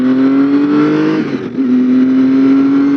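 Engine of a 2011 Triumph Daytona 675R motorcycle, a loud, steady close-up drone that dips briefly mid-way and then holds a smooth, even pitch.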